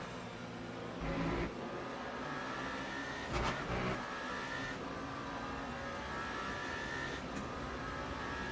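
A Peugeot race car in Le Mans Ultimate with a steady engine drone throughout, swelling briefly as cars sweep past, moderately loud and alone.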